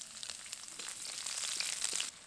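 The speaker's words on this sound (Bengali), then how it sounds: "এবার এর মধ্যে দিয়ে দেবো পেঁয়াজ কুচি।" Chopped onion sizzles in hot mustard oil with ginger and black cumin, a soft continuous frying hiss with scattered crackles that swells slightly before cutting off near the end.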